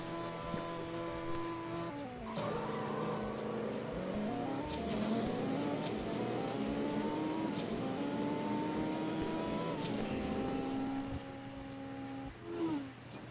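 A Subaru WRX races in the CSR2 mobile game, engine tones climbing through rising rev sweeps and gear shifts, loud and continuous without voices.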